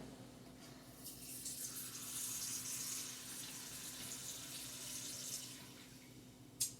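A steady stream of water runs continuously into a cooking pot, a soft even hiss that swells slightly midway and ends with a brief clunk.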